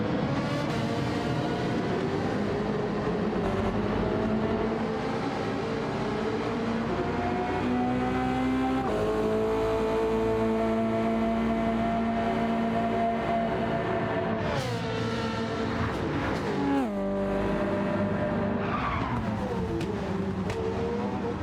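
Gr.3 race cars lapping the Montréal circuit in Gran Turismo 7, with loud continuous engine drones rising and falling in pitch through gear shifts, several cars overlapping and passing close throughout.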